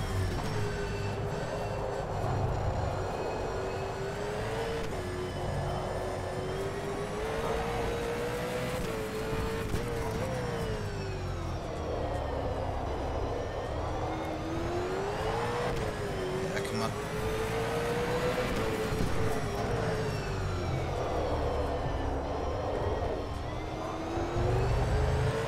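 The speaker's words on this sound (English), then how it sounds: "V8 struggling to get up it." A V8 Supercar engine in the rFactor 2 racing game drones steadily and loudly as it labours up a hill at the Auckland circuit, its pitch wavering up and down without pause under the whine of gearing.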